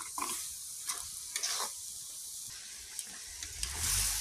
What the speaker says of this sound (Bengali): এবারে এটাকে ভালো করে নেড়ে নেড়ে পুরটা তৈরি করব